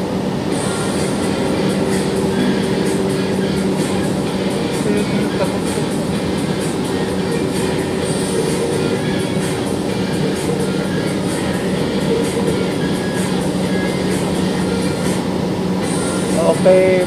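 Steady rumble and hum inside a moving MRT-3 metro train in Metro Manila, with rattling wheels and faint background voices throughout.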